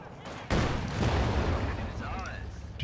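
Incendiary rounds fired in a competitive video game match, a burst of dense crackling gunfire that erupts sharply after a brief lull and keeps rattling, with a rising whine near the end.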